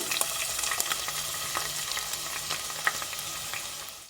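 Thinly sliced medium onions fry in a pan while being stirred, a continuous sizzle broken by small scraping taps, close by with no talking.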